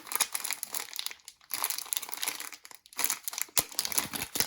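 Close crinkling and rustling of thin plastic in bursts with short pauses, a small zip bag of diamond-painting rhinestones being pulled open, no voices.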